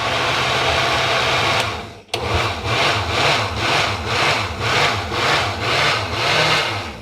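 A food processor pulses tapioca flour, queso fresco and salt for Brazilian cheese bread, a loud steady motor whir with rhythmic surges and a brief stop partway through, no talking.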